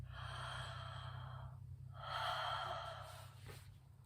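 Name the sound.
breathing in and out through the mouth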